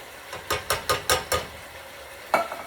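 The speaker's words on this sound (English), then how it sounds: "So I'm going to go ahead and add my fire roasted diced tomatoes." Fire roasted diced tomatoes go into a hot paella pan for a seafood paella with shrimp, snow crab, mussels, clams and sausage, giving a series of five quick stirring and scraping strikes in a row, then one more after a pause, close and clear with no talk.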